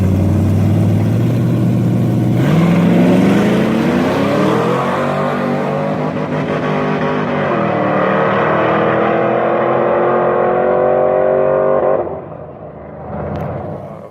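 A street car built almost to race spec launches on its first drag-strip pass, its LS V8 engine roaring loud and close as the revs climb steadily through the gears for about twelve seconds, then easing off.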